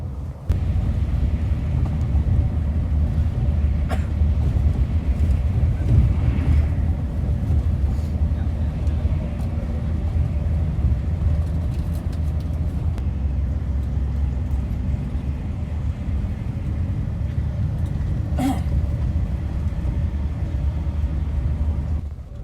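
Inside a Sinar Jaya intercity bus on an Indonesian road between Prupuk and Purwokerto, a constant low engine and road rumble drones steadily at moderate speed, with a few faint rattles and clicks.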